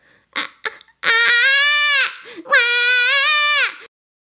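A voice imitates a crying baby with two long, wailing cries, preceded by a few short breathy sounds; close and loud.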